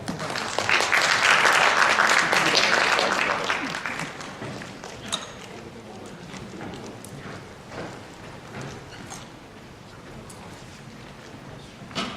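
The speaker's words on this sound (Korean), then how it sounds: "큰 박수로 맞이해주시기 바랍니다" An audience at a 2015 industry summit panel session claps to welcome the speakers, a dense burst of applause that peaks early and then thins into scattered clapping and room noise.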